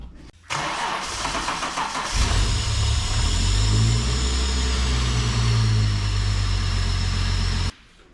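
A Holden VU Ute engine with new spark plugs and leads cranks briefly, catches and starts, then settles into a steady, loud idle close by with no talking.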